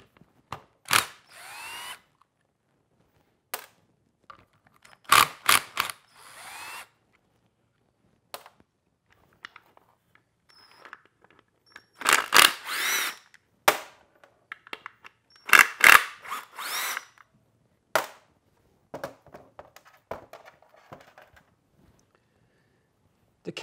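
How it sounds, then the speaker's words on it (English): Impact gun taking out the oil cooler bolts while a remote oil cooler is fitted to a 6.0 diesel: short, loud whirring bursts come in separate spurts with quiet gaps, up close, along with faint clinks and handling noise. "I just kind of lift it up and go blindly underneath with the gun and take those two out"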